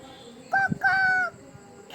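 A voice imitates a rooster crowing, two short rising-and-held calls close by, surrounded by quiet.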